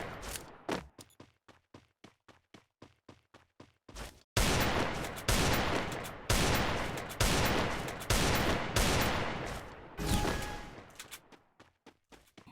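Desert Eagle pistol fire in a shooter video game: a rapid string of sharp, light cracks gives way to heavy, booming shots, each ringing out and decaying, with no talk.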